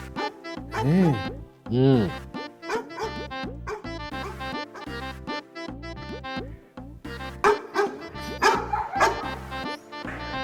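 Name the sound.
dogs barking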